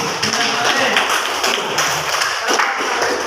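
Applause from a classroom of students, a dense, steady patter of many hands clapping at close range, filling the short stretch with little variation.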